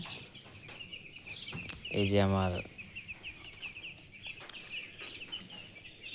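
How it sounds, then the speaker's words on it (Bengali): Five-day-old poultry chicks chirp in a steady, busy chorus of thin high peeps throughout, with a brief spoken phrase from a nearby person partway through. "পোলট্রি মুরগি বাচ্চাগুলো, আজকে বয়স হচ্ছে আপনার 5 দিন।"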